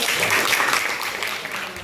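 A classroom gives a short burst of applause, a steady wash of clapping that holds at an even level for under two seconds.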